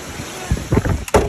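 Loud, blustery wind buffeting the microphone with rushing bursts, and a sharp gust surging near the end.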